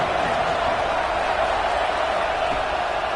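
A football stadium crowd before a big third down: a dense, continuous roar of many voices, steady and loud throughout with no distinct breaks.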